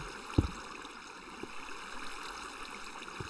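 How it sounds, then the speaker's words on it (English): Water flows steadily in the Minecraft video game, a continuous rushing stream with a soft thump near the start and faint clicks, no talking over it. "Wow, there's a lot of water."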